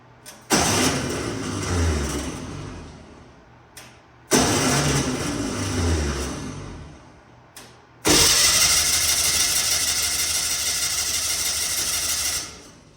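A 1979 Pontiac Trans Am engine cranking for the first time in a long while, with three loud bursts of starter grinding near the mic: two of about four seconds each, then a longer steadier one of about five seconds.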